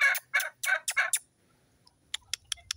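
Farmyard turkeys let out a quick run of five or six loud, warbling gobbles, then a short pause before chickens add a few sharp, clipped clucks, nearby and without talk.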